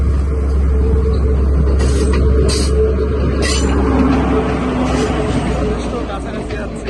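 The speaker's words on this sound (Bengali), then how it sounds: "হ্যাঁ, ট্রেনটা আসতেছে, এই যে ট্রেন আপনাকে দেখতে পাচ্ছেন হোপফুলি।" A train approaches across the Nine Arches Bridge in Ella, Sri Lanka: a steady, loud rumble with low mechanical drone and occasional metallic clinks, beneath a murmuring crowd.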